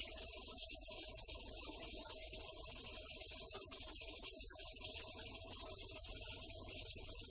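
Tap water runs at full force into a kitchen grease trap, a steady, faint rushing gush that holds unbroken throughout with no voices.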